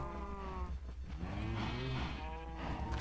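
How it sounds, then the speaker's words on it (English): Sheep in the Minecraft video game bleat in a farm setting, several overlapping low calls over a few seconds, faint with no talking. "I'm gonna go shear all the sheep right now."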